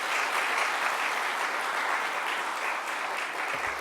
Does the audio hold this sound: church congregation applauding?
yes